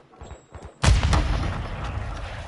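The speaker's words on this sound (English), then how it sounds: "they're trying to throw grenades at me now" A grenade blast in Call of Duty erupts as a sudden loud boom, then a long, dense rumble of debris and gunfire carries on. Quieter thuds and shots come before it.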